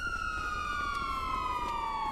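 A police car siren in the video game GTA 5 wails in a slowly falling tone, steady and fairly close, with no other sounds.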